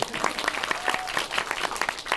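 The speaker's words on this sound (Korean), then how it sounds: "박수 한번 부탁드립니다." An audience at a Korean short-film screening and talk breaks into steady, dense clapping that carries evenly through the whole moment, with no voices over it.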